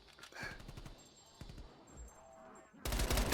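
Gunfire in Call of Duty: rapid bursts of shots in quick succession, close and punchy, with a louder burst near the end and a voice over part of the game sound.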